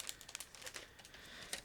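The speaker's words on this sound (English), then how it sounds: "Everything is packed into a resealable plastic bag, and now I'm just trying to open one." Crinkly plastic of a resealable bag being pulled open while unpacking an ICM 1/72 scale model kit, a run of quiet, close crackles and rustles with one sharper crinkle near the end.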